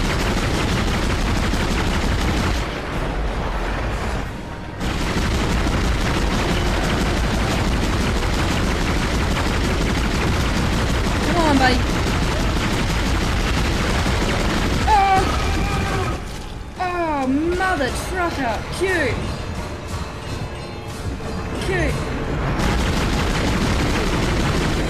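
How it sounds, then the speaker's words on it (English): Gunfire in Dead Space aimed at a necromorph cracks in dense, loud bursts under a constant rumble, with a short pause early on and a person talking over the shots. "Fucking shoot the shit out of this thing."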